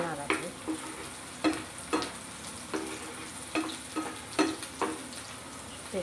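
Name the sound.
stirring bitter gourd fry with turmeric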